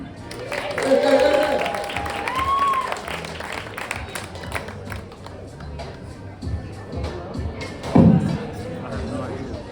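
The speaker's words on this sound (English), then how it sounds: "Next up, give a big round of applause to Mr. Jason Q." Audience applause and cheering at a poetry event, clapping mixed with crowd chatter and voices, swelling early then settling into scattered claps with a loud burst later.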